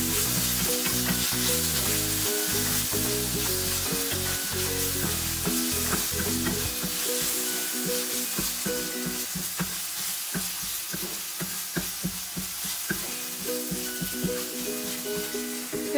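Ginger garlic paste fries in a pan while being stirred for Goan mackerel fish cutlets, producing a dense, steady sizzle with occasional stirring scrapes. A faint tonal hum sits under the first half, and no one speaks.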